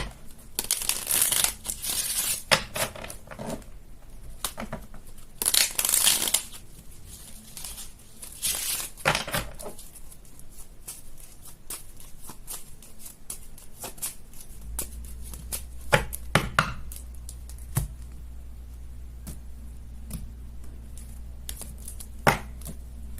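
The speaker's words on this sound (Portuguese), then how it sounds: "Vou dar mais 3 cartas." Playing cards being dealt and handled during a reading, with crisp rustling, snapping and sliding sounds in uneven bursts up close, followed by a quieter stretch with scattered soft taps.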